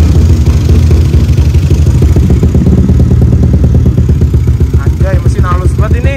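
A modified Yamaha Aerox scooter engine, bored and stroked to nearly 300cc and not yet tuned, sputters to life on its first start and settles into a loud, steady, rattling idle right up close; a voice briefly chimes in near the end.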